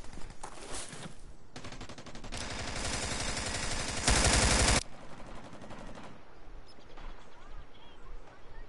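Video game gunfire comes in loud, dense bursts through the middle of the clip, with quieter shots around them and a voice talking over the action.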